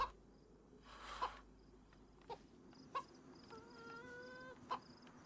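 A chicken clucks in a survival video game, a few short clucks and a longer warbling call spaced over quiet insect-like chirping, faint and moderately close.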